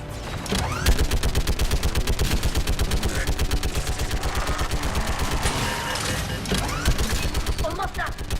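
A turret gun in the Mass Effect video game hammers out rapid, sustained automatic fire, loud and relentless, with sharper metallic impacts scattered through the barrage.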